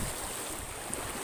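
Rough sea on a boat fishing trip makes a steady, loud wash of waves, mixed with heavy wind buffeting the microphone.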